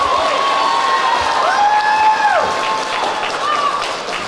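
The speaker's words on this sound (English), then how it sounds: "Round of applause." Audience applauding at a high school JROTC awards ceremony, steady dense clapping from a crowd filling the hall, loud throughout with some voices mixed in.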